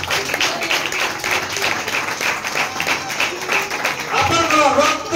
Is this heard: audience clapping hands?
yes